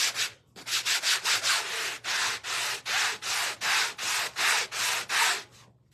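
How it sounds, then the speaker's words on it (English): A canvas surface being sanded by hand: about fourteen loud, close, raspy strokes in a steady back-and-forth rhythm, each a harsh scrubbing burst separated by brief pauses, with no voices. "So I'm going to sand it first, all over. It's going to be loud."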